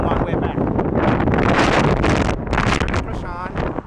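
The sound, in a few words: strong wind on a bridge near Hoover Dam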